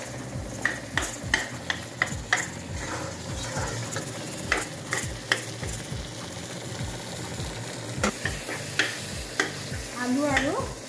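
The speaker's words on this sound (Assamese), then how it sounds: "আমখিনি এতিয়া মই ইয়াত সুন্দৰকৈ ভাজিম অকণমান পৰ।" Raw mango and potatoes fry in a wok for a traditional Assamese fish curry. Steady oil sizzle runs beneath repeated scraping and clacking stirring strokes at an uneven rhythm.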